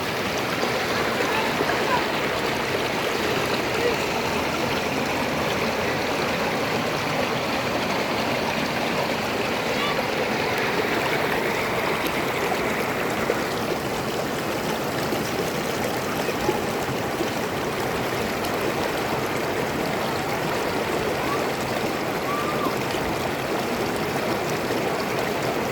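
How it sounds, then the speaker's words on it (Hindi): A mountain stream in Kashmir rushes steadily over rocks, close and continuous, a broad even wash of flowing water with no pause and no talking. "ये मैं पानी आपको करीब से दिखा देता हूँ।"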